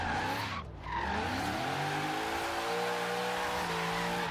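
A Chevrolet Corvette Z06 in a video game revs and whines in third gear as tires squeal continuously through a drift, the pitch sliding up and down, loud and close.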